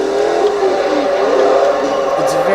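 A Ford Mustang Cobra with a V8 of over 800 horsepower revving in the racing game Forza Horizon 2, a loud, close, sustained engine roar with shifting pitch during a drift, over continuous road noise.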